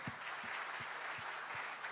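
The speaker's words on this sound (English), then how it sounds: "Let's have a round of applause for them." A crowd claps steadily, dense applause with some rhythmic emphasis, sounding moderately distant.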